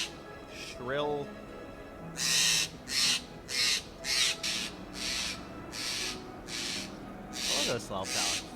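Small corvid-like birds give shrill, repeated calls in quick bursts, fairly close and loud, with a steady noisy background and some faint talk mixed in.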